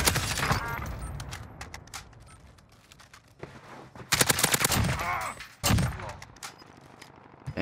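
Rapid bursts of automatic gunfire in the Call of Duty Warzone battle royale game, several loud volleys separated by a quieter stretch of lighter shots and clatter.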